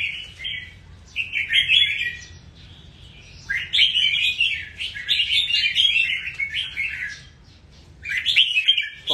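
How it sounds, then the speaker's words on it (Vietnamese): A baby Thai bird chirps loudly and close by in shrill, rapid bursts, pausing briefly between each run of calls. "Con này là con chim con nhá, chim con chim Thái Lan ấy."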